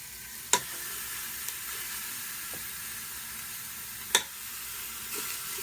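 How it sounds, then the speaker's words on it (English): Chuck eye steak sizzles on the hot Sear and Sizzle surface of a Ninja Foodi, a steady close frying hiss broken by a couple of sharp clacks from handling, with no talking. "that Sear and Sizzle is good and hot, and we want to leave it hot"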